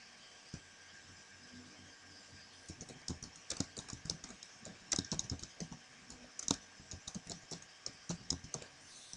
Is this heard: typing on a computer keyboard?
yes